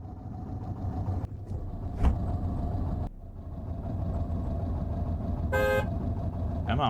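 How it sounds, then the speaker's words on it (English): A vehicle horn sounds in the game Cataclysm: The Last Generation, a short sharp honk over a low idling engine rumble, with a few faint clicks elsewhere. "we'll honk the horn"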